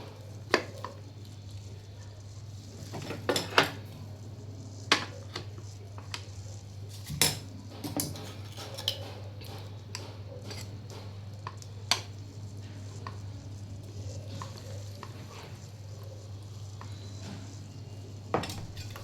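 Metal utensils scrape and clink against a plate or pot while roasted eggplant pulp is scooped out, irregular close taps and scrapes scattered over a low steady hum.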